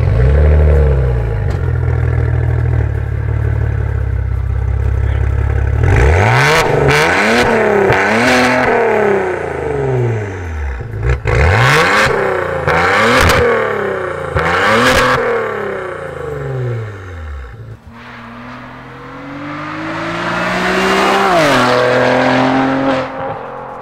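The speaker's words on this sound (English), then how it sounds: "it makes all the right noises, and it does a lot of popping and banging" A Maserati Ghibli with a turbocharged engine and 8-speed automatic revs hard in repeated loud bursts, rising and falling, with crackling pops and bangs on the overrun, close and with no talking.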